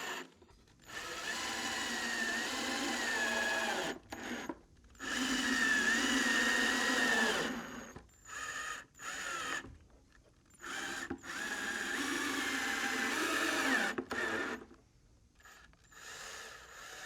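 A power drill drives 2.5-inch screws through 2x3 wood cleats into a cabinet for a contemporary nightstand, in several whirring bursts of a few seconds each with short quiet gaps between them, close and fairly loud.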